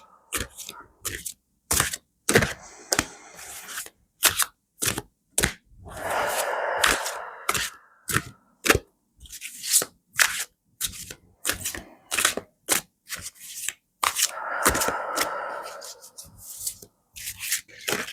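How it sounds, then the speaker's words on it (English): Tarot cards are shuffled close up: sharp taps and snaps come in irregular bursts, broken by two longer rippling riffles, with quiet pauses between. "grounding, and shuffling the cards"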